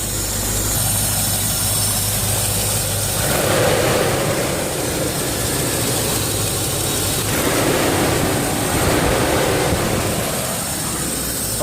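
Vehicle engine idling steadily with a newly installed cooling clutch fan, a loud continuous rumble and whooshing fan roar, close, with slight swells in pitch and no voices.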